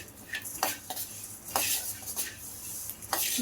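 Coriander seeds dry-roasting in a pan for sambar powder, a spoon scraping and clinking against the metal in repeated irregular strokes over a faint sizzle, close and clear with no talking.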